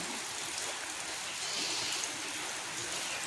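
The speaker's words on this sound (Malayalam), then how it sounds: "നല്ല മഴയാണ്." Heavy rain pours down steadily outside an opened door in a flood-threatened area. The hiss is dense and constant and even in loudness, with no voices.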